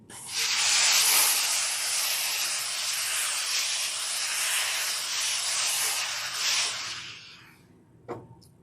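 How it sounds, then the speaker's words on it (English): A steam iron vents excess steam in a loud, sustained hiss lasting several seconds before tapering off, followed by a brief knock near the end. "Let off some steam. all the excess so it doesn't spit on my quilt."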